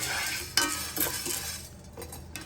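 Lentils and tamarind roasting in a pan over low heat, stirred with a spoon that scrapes and clinks against the metal, with a soft sizzle underneath and no talking.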